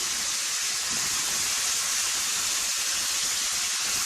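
Meat for an Egyptian beef, onion and potato tagine sizzling loudly in a hot pan as it is seared and stirred, a steady dense hiss with occasional scraping, no talking.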